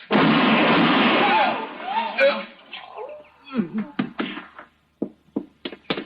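A single loud gunshot effect in a radio drama, a sharp broadband burst that decays over about a second and a half, followed by scattered knocks and brief voices speaking.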